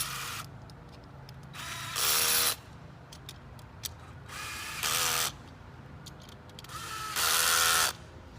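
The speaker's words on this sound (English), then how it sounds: "7/16 socket and we'll tighten down the frame completely." A 7/16 socket ratchet tightening frame bolts on a VX-3.0 frame during assembly: three close bursts of rapid clicking, each lasting about half a second, separated by quiet pauses.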